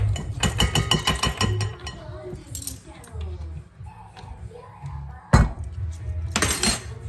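A spoon or whisk clinks rhythmically against a bowl while cake batter for an apple cinnamon cake is mixed. Quick taps come first, then looser scraping, and a sharp clatter follows later.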